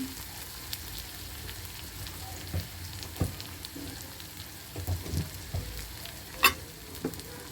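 Taro pieces stirred with turmeric powder in a frying pan give a low steady sizzle, with irregular scraping and knocking strokes from the spoon, close by and with no voices.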